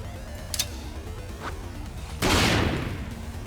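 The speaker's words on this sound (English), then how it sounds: "Oh, an explosion." An HE grenade explosion in the Cyber Knights video game erupts as a sudden loud burst of noise after a couple of faint clicks, then trails off gradually.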